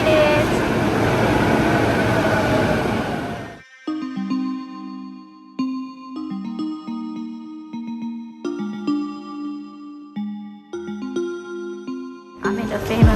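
Inside a Tokyo station, a loud rumbling roar of a passing train fills the first few seconds, then gives way to a sequence of steady electronic chime tones, and the rumble returns briefly at the end.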